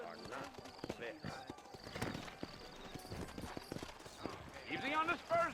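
Horses' hooves clip-clopping in Red Dead Redemption, a steady rhythmic trot of several horses close by, with someone talking over it and a brief whinny near the end.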